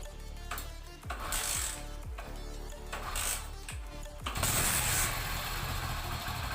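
A motorcycle engine, after carburettor cleaning, is cranked several times with rhythmic mechanical chugs, then catches and settles into a loud, steady idle.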